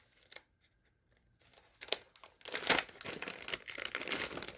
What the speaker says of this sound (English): I got my trusty scissors.